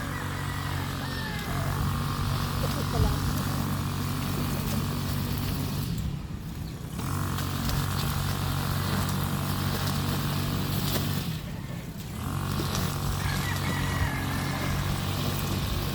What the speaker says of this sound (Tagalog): Ah, grass cutter yan.